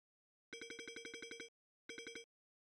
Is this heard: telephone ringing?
yes